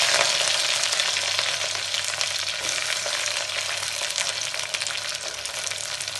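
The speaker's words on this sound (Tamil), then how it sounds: "முதல்ல எண்ணெய் ஊற்றி எண்ணெய் காய வச்சுருக்கலாம். அதுக்கப்புறம் முதல்ல வெங்காயம் போட்டு" Onions frying in hot oil in a black clay pot, giving a dense, steady sizzle with crackling pops, close and loud, with no talking.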